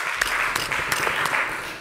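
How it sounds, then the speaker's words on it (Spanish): Audience applause for speakers at a Barcelona documentary festival talk on virtual and immersive reality: brief, dense clapping at a steady moderate level, with a few sharper individual claps standing out. "Un fuerte aplauso para Bernat y empezamos."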